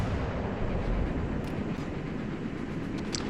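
Heavy naval guns from a Japanese IJN Kii battleship firing armor-piercing shells in World of Warships at a cruiser, a dense continuous low rumble of blasts and booming reports filling the whole stretch, loud and close with no talk.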